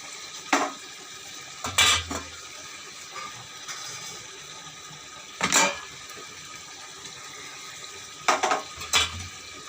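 A spoon scrapes and clanks against a cooking pot as rice paste is stirred with fish. The strokes come in short, irregular bursts separated by a quiet background, and no one talks.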